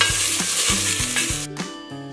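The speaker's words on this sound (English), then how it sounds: "Heat up some olive oil, then add onion, hot pepper and garlic." Onion, hot pepper and garlic fry in hot olive oil with a steady bright sizzle, broken by a few distinct stirring knocks of a utensil against the pan, close and loud with no voices.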